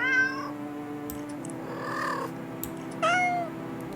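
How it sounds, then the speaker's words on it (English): Game cats meow in a horror video game, with two clear meows, one at the start and another near the end, over a steady ambient drone. "The sound of happy cats munching away at the fish fills your ears."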